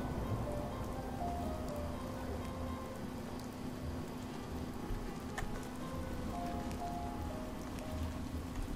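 Steady rain in Fallout 4, a soft, even hiss of falling drops that stays constant and fairly quiet throughout.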